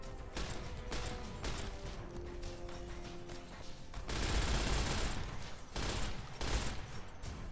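Fallout video-game gunfire during a fight with deathclaws: a steady rattle of rapid shots under game ambience, quiet overall, swelling into louder sustained bursts in the second half.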